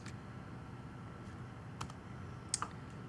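Faint, quiet keystrokes on a computer keyboard scatter in a lecture setting, a few sharper clicks standing out near the end against a soft room hum.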